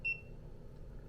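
A single short, high electronic beep from a digital timer sounds at the start of an AeroPress coffee brew, followed by quiet low background hum.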